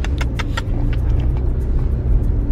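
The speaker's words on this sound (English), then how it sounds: "Oh, wait, no, the car's coming, Giz." A car rumbles past nearby on a street, a steady low engine and road noise filling the clip, with a few faint clicks and jingles over it.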